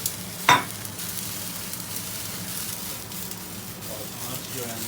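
Chicken chana daal masala with chopped tomato frying in a pan over a high flame, giving a steady close sizzle with a brief clatter near the start.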